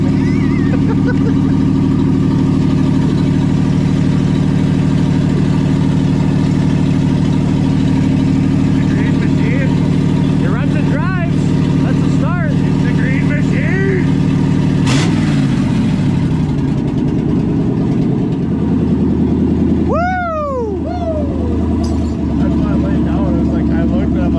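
A 1972 Chevrolet K20 4x4 truck that has sat for 15 years, its engine running steadily with a low rumble and rattle, heard close up under ongoing conversation.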